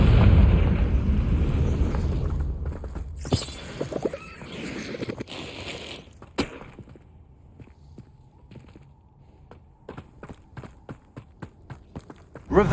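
Confringo blasting spell in the video game Hogwarts Legacy, a heavy rumbling explosion that opens loud and fades, followed by sharp impacts, crackles and a string of light clicking steps.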